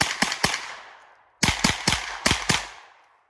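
An IWI Tavor X95 bullpup rifle fires downrange outdoors in two quick strings, three sharp cracks and then five, each shot loud and echoing briefly.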